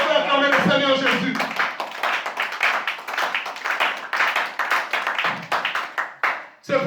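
A church congregation at a French-language service claps for the Lord Jesus in dense, energetic bursts, mixed with voices and shouts. The sound fades briefly near the end, then returns.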